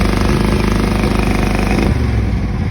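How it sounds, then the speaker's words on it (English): Cub Cadet 782 garden tractor engine running rough on one cylinder, a loud, close, steady uneven chugging with a lumpy pulsing beat that shifts and deepens slightly near the end; no talking. "It's running on one cylinder because the coils get hot."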